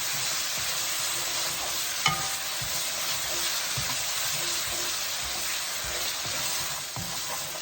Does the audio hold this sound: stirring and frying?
yes